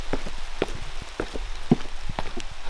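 Rain patters on surfaces around an abandoned water park, scattered drops tapping near and far in an uneven, continuous rhythm at moderate volume, with no talking.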